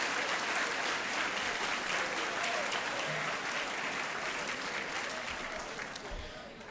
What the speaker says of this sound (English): Could we please give a nice round of applause once again to our Henry Ford II singers?